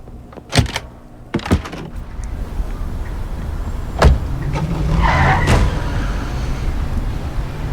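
Game car sounds in The Book Walker: a few sharp thunks like doors closing, followed by a rising engine rumble as a taxi pulls away, moderately loud with no talking.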